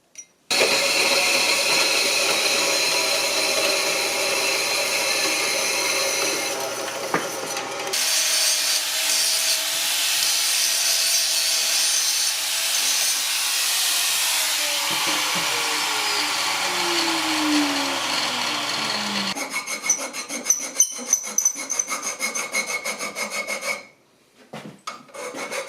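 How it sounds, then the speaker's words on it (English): Metal work on a 1976 Mazda RX-5 Cosmo intercooler, with long, loud, continuous rasping and grinding passages, a shift in tone partway through, then rougher scraping strokes before a brief pause near the end. "Took a little bit of grinding and filing to get this thing straight"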